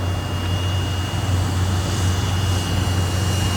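A rebuilt Hangar 9 Fokker RC model airplane flies, making a steady droning engine hum with a constant low tone and a faint high whine, even and uninterrupted, with no talk.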